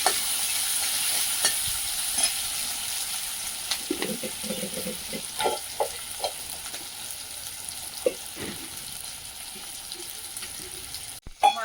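Chopped onions sizzle in a frying pan while being stirred, a steady close crackle broken by scraping spatula strokes and clinks, ending with a sharp knock.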